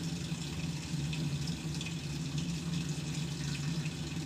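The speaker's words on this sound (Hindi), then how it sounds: "हमारी मशीन जो है इस वक्त पानी लेने लग गई है।" A Dawlance automatic washing machine fills its tub with water, a steady, continuous rush of running water with no breaks, fairly quiet and close.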